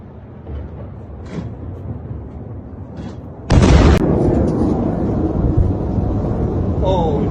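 A sudden loud blast during a night attack on Tel Aviv, Israel, cutting in partway through after a low rumbling background and faint distant pops, then leaving a sustained roaring wash.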